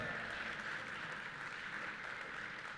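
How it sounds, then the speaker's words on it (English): Steady, dense audience applause at a keynote conference, a continuous wash of many hands clapping at even loudness throughout, fairly distant and without clear individual claps or voices. "Clap it up."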